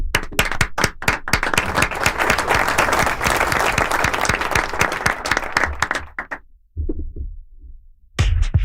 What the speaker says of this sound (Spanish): Lo despedimos con un gran aplauso.